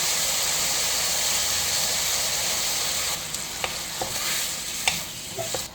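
Beef stir-frying in a pot for spicy Korean beef soup, with a loud, steady sizzle and hiss throughout and a few sharp clicks and scrapes of stirring near the end.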